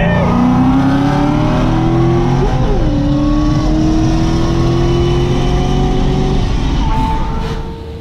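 A 1300-horsepower GT500 revs hard and accelerates in a street race, its pitch climbing through gear shifts in a loud, sustained roar.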